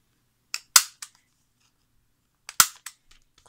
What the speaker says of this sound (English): I think this time I'm gonna use only corner punch